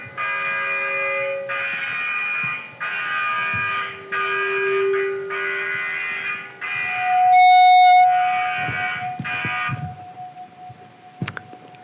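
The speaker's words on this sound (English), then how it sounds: "That is the call that you'll hear on a warship. As soon as that alarm goes off" Warship action stations alarm: a loud, close electronic tone sounding in a steady series of repeated pulses, broken briefly by a higher shrill burst and a sustained whistle-like pipe, ending with scattered clicks.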